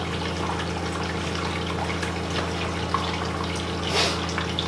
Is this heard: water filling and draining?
yes